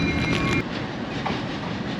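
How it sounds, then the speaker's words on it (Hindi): The 7up Tezgam express pulling into Wazirabad junction in Pakistan, a close, steady rumble of wheels and carriages rolling past with a faint high squeal near the start. "ट्रेन सामने से आ रही है 7 अप तेज़गांव"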